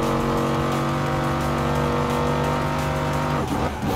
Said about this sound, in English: I love how the engine sounds